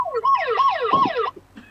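An ambulance siren wails loudly with rising and falling tones in quick repeated sweeps, cutting off abruptly near the end.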